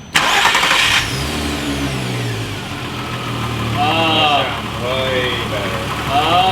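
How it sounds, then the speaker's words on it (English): A VR6 engine swapped into a VW Scirocco cranks briefly, catches and settles into a loud, steady idle close by, then swells with revving. Voices talk over it. "We're gonna crank the engine and it should flash."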